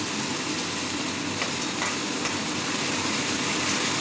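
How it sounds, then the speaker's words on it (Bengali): Chopped onions fry in hot oil in a wok, giving a loud, steady, close sizzle that continues evenly throughout. "মা পেঁয়াজ ভাজতে থাকুক"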